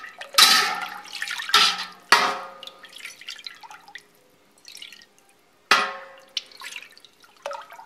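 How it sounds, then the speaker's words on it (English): Rennet being stirred into a pot of milk for homemade feta cheese: a spoon sloshes and drips in several separate bursts with quiet gaps between, fairly close and with no voices. "And then you want to stir in well, but with the 20-20 strokes."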